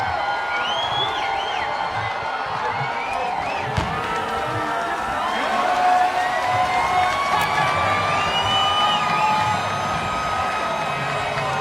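A large stadium crowd at a college football game roars steadily as the team runs onto the field, with whoops and a rising swell of cheering that is loud and continuous throughout.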